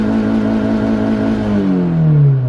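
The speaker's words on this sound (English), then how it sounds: "If I press the gas pedal all the way," A car engine revs up steadily as the gas pedal is pressed all the way down, with a rising whine that climbs in pitch through the second half, loud and close with no talking.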